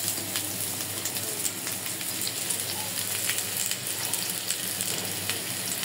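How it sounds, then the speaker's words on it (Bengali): Onions frying in hot oil in a pan, a steady close sizzle with crackling pops scattered throughout, no voices over it. "তেল দিয়ে দেব, পেঁয়াজটাও ভেজে নিতে হবে"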